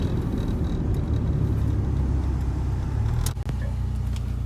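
A 1997 Honda Civic Del Sol Si engine drones loudly and steadily with deep rumble while cruising on a back road with the rear window open, with a brief dip near the end.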